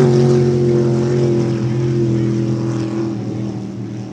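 Racing sprint boat engines, one supercharged and one naturally aspirated, drone loud and near with rich low harmonics, fading slightly toward the end as they pass.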